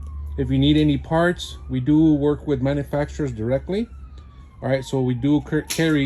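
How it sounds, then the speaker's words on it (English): Sirens from a nearby freeway wail and sweep in the background while someone talks continuously in the foreground about dryer parts. "So sorry about the sirens."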